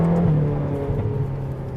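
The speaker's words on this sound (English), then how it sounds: "The exhaust note's awesome." A Ferrari California's exhaust drones steadily while the car is driven at moderate revs, a close, smooth engine tone holding nearly level throughout the short stretch.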